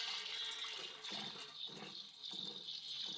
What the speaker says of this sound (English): Pour in 4 liters of water.